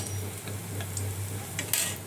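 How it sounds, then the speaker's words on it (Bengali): A steady, low sizzle of kuli pitha, a rice cake, deep-frying in hot oil, with a constant hum and a few faint clicks. "এই ডুবো তেলে আমি এগুলো ভেজে নিচ্ছি"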